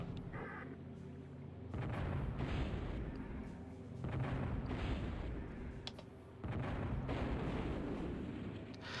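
A jeep explodes in the DOS strategy game Spellcross, heard as a series of loud, rumbling blasts in three long bursts separated by short quieter gaps.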